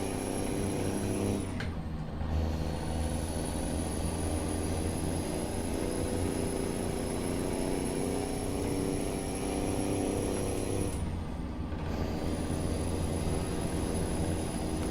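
A Peterbilt 359 truck engine in American Truck Simulator drones loudly and continuously, the revs held high with a steady whine, briefly dipping twice as gears change.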